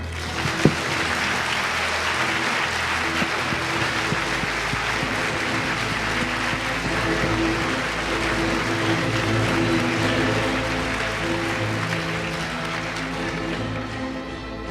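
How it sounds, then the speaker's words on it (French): Sustained audience applause at a French university eloquence contest final in Clermont, a dense, even wash of clapping from a large crowd that holds steady for about fifteen seconds with no voices over it. "Mesdames, messieurs, je vous demande d'applaudir Solène Meruex."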